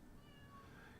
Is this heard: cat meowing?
yes